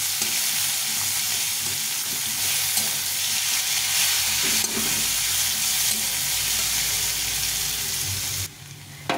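Onions and bay leaves sizzle steadily in hot oil in a pan with dried red chillies and cumin, a dense, even frying hiss that holds for about eight seconds before dropping off abruptly near the end.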